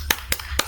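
Three sharp, evenly spaced group claps from a classroom doing a rhythmic tepuk semangat clapping chant, loud and close with short gaps of room noise between.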